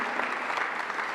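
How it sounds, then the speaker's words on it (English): Steady applause from an event audience greeting a presenter named Tamar at a hackathon-style pitch session, dense and continuous clapping at moderate level throughout. "I would like to give a big applause to Tamar, please."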